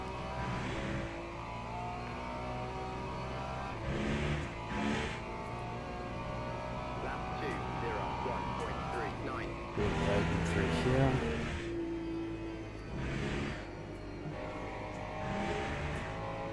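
Race car engine in Le Mans Ultimate revving up and down through gear changes, a buzzing, rising and falling whine with tire noise, under someone talking.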